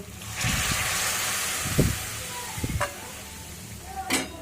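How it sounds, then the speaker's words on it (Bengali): Hot water poured into a pan of sizzling half-cooked potatoes and spices, a rush of steam and hiss followed by bubbling and a few clatters, with a brief voice at the end. "এবার আমি এখানে গরম জল দিয়ে দেব।"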